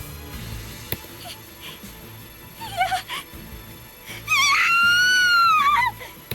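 A loud, drawn-out high-pitched scream in the PC video game Neighbor rises and wavers for over a second, preceded by a shorter shrill cry, over a quiet background.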